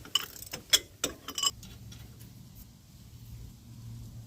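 Quick metallic ratchet clicks in a short irregular burst while a bolt is turned on a Jeep Comanche front suspension, close and crisp, then fading to faint shop background.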